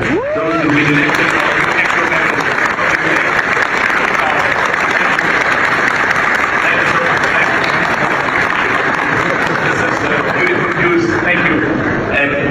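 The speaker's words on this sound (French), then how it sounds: "Can we clap hands for them?" A meeting hall audience applauds newly elected CAF executive committee members confirmed by acclamation: loud, sustained, even clapping from many hands for over twelve seconds, with voices blended into the din.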